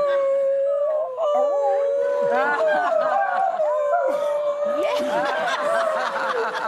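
A Great Dane dog named Bing howls in a long, sustained, wavering tone, held close and loud throughout, with brief yips and voices chuckling and talking underneath.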